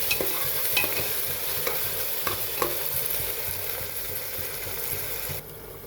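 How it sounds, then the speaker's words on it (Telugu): Onions fry with ginger garlic paste in a pan for a mutton curry, a continuous sizzle punctuated by several sharp scraping stirs of a spoon before the hiss cuts off near the end. "అలా ఉల్లిపాయలు వేగుతున్నప్పుడు హాఫ్ టీ స్పూన్ అల్లం వెల్లుల్లి పేస్ట్ మిక్స్ చేసుకున్నాం"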